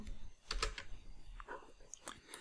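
Quick light keystrokes on a computer keyboard, a short uneven burst of close clicks with a couple of brief pauses, fairly quiet and with no voice over them.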